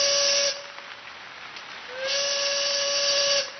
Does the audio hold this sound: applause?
no